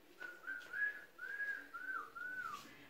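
A boy whistles a cheerful, wavering tune alone, a single clear melody of rising and falling phrases at moderate volume with brief pauses between them.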